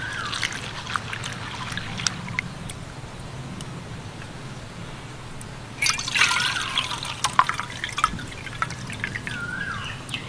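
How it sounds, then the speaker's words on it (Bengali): Sago pearls washed by hand in a bowl of water, soft sloshing and squelching with small drips, growing busier and splashier midway. "এইভাবে কিন্তু হাত দিয়ে চটকে চটকে ধুয়ে নেব"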